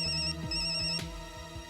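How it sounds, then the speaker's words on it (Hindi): A telephone ringtone chimes in a quick repeating electronic pattern, close and clear, with no talking over it. "ये ले, फोन का नाम लिया और फोन आ गया"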